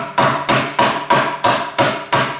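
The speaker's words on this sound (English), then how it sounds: "Only little bit hammering" Seven steady hammer blows on a bearing in a Honda automatic transmission, sharp metallic strikes evenly spaced about a third of a second apart, close and loud with no talk.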